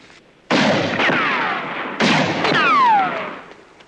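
Gunfire in the film Planet of the Apes: two sharp, loud reports about a second and a half apart, each followed by a long booming echo and whistling ring that fades out.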